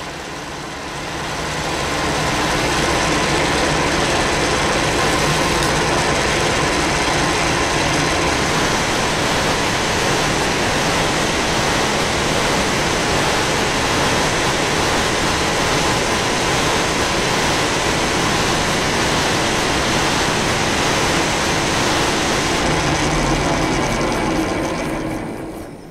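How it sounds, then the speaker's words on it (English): A milling machine cuts the end of a tool steel rod to a 45 degree angle with relief angles, making a loud continuous grinding roar that ramps up, holds steadily for about twenty seconds, then winds down. "Here I'm milling the end of this rod to have this 45 degree angle and also suitable relief angles on it."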